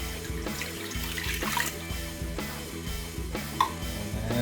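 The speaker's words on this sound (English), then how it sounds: "And we're going to pour some water on there." Water pours steadily into a pan of ribs sitting in apple cider vinegar, a soft continuous splashing and trickle close by, with no talking.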